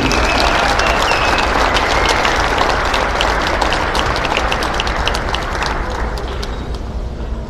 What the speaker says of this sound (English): One more round of applause for Stephen Richardson.